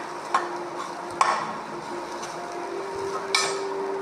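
Grated coconut sautéing in a pan: a low, steady sizzle with a spatula scraping and tapping the pan a few times.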